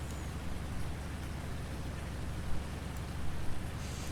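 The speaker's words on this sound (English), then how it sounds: "I had no idea it was supposed to rain like that today" Rain falls in Farming Simulator 19 as a steady, dense wash of hiss at moderate volume. The downpour stays even and continuous, with a few slightly louder swells near the end.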